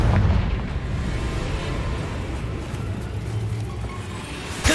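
A Confringo spell explosion from Hogwarts Legacy booms loud and close, a sustained low rumbling blast filling the moment with a sharp burst at the very end.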